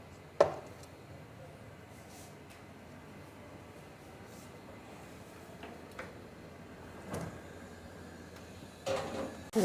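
A cake tin with almond butter cake batter being set into an oven, a few sharp metallic clicks and knocks spaced apart with a sliding rack and door clunk near the end, quiet between.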